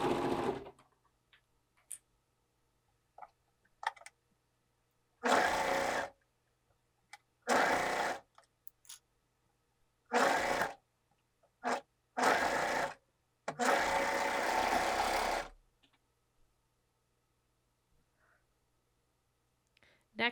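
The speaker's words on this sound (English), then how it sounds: "Sew around the sleeve to attach the ruffle." A sewing machine stitches a ruffle onto a dress sleeve for a copper-colored dress, running in several separate bursts of steady whirring, close and clear, with quiet pauses and small clicks between runs.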